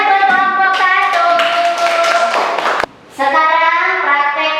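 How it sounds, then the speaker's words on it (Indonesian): Classroom students clap for a student group, with a burst of hand claps mixed with chanting voices, a brief pause, then more voices. "tepuk tangan buat kelompok 1."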